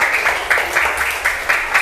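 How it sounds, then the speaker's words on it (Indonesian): Classroom applause after a quiz answer, a dense steady patter of clapping hands for about two seconds with a few louder swells. "Beri tepuk tangan."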